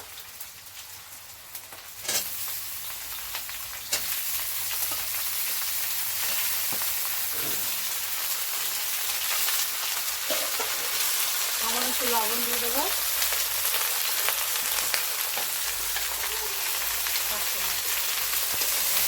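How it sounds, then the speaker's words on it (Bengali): Eggplant frying in a pan for a sour small-fish curry, a steady broadband sizzle that swells louder partway through, with occasional utensil knocks and someone talking intermittently over it. "বেগুন একটু ভাজা ভাজা করে নিলাম"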